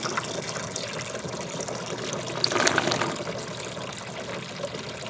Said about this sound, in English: So as fast as it's coming in, it's getting siphoned out.